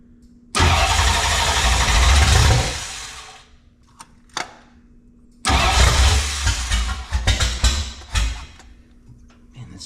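A 1966 Mustang's 5.0 302 V8 cranks and roars to life on first start, revving loudly for a couple of seconds before dying, then cranking and catching again with uneven bursts.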